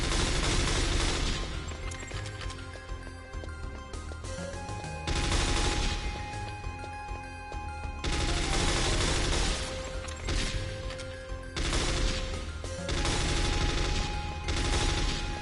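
Bursts of gunfire from Metal Gear Solid on PS5 as the character runs and shoots, loud clustered volleys repeating in waves roughly every few seconds over a steady game backdrop.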